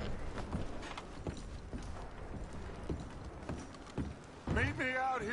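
Horses are packed in Red Dead Redemption 2, with hooves clopping irregularly alongside creaks and clinks of tack and gear, then a voice speaks near the end.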